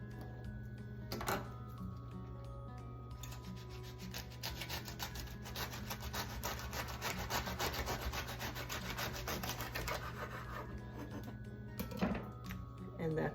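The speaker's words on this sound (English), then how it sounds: "we're going to take this sharp knife and we're going to cut off just about 1 inch or so up here on the top" A sharp knife saws through the top of a fresh artichoke, giving a steady rasping, scraping cut close by for several seconds, with quieter handling sounds before and after.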